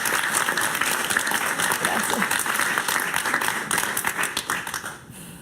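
Applause from an audience at a talk on liberalism and capitalism, a broad, even wash of clapping that holds for several seconds and then fades out near the end.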